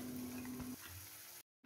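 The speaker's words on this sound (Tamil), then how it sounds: "இப்போ அரைச்ச கேரட்டை இப்போ இந்த நெய்யில் நம்ம சேர்த்து வதக்கி விட்டுக்கலாம்." Mashed carrot sautéing in a spoonful of ghee in a pan, a steady low sizzle and stirring scrape running close by, then a brief silent gap before the frying noise returns.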